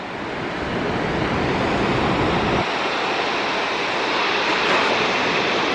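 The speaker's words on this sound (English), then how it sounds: "This is the mighty Orange River." The Orange River waterfall at Augrabies, a loud, continuous roar of rushing water with wind buffeting the microphone, steady throughout with no talk.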